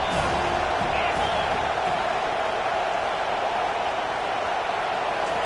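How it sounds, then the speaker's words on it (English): A football stadium crowd for Missouri vs Ole Miss makes a dense, loud, steady roar of cheering and noise throughout, with no clear voice above it. "This crowd trying to make life miserable for this offense."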